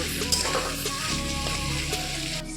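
Taro pieces fry in spiced oil in a pan, giving a steady, close sizzle with light stirring scrapes and no talking.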